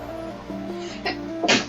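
A single sneeze from a person indoors, preceded by a short breathy build-up and ending in a sharp, loud burst near the microphone.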